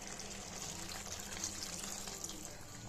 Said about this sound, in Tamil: இப்போது கொஞ்சமாக நம்ம வந்து தண்ணி சேர்த்துக்கலாம்